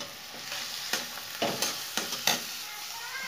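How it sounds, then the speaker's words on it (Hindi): Spices for palak paneer fry in a little oil in a pan, giving a steady sizzle broken by several quick scraping stirs at a brisk, uneven rhythm, with no one talking. "तो मसाले आप देख सकते हैं भुन गए हैं खूब अच्छे से"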